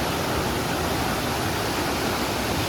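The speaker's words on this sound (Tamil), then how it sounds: "வாட்டர் ஃபால்ஸுக்கு வந்தாச்சு." A waterfall visited on a hitchhiking trip from Kerala to Manali roars as a loud, dense, continuous rush of falling water, heard close with no voices.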